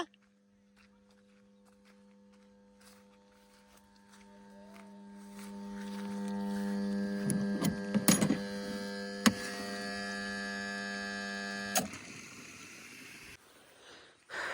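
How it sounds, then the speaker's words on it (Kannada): A water pump motor hums steadily throughout, running louder than normal, growing louder midway with rattling clanks and knocks before cutting off near the end. "ಯಾಕ ಏನೋ ಮೋಟ್ರ್ ಜಾಸ್ತಿ ಸೌಂಡ್ ಬರಕತ್ತೈತ್ರಿ"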